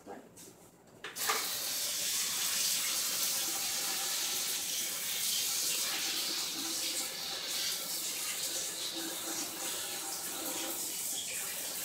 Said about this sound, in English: Let me clean this off in the sink.